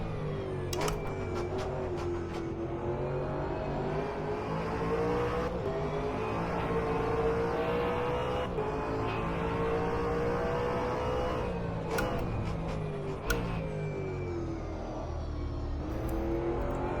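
A V8 Supercar engine in a racing video game at Bathurst drones loudly and continuously, its pitch rising and falling through gear changes as revs climb and drop, with occasional sharp clicks and no talking.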